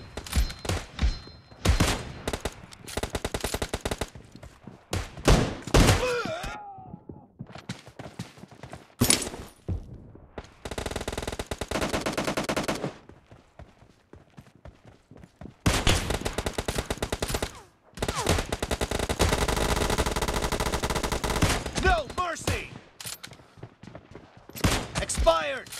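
Gunfire in a PUBG Lite team deathmatch video game: repeated loud bursts of automatic fire and single shots, close and intense, separated by brief quiet gaps.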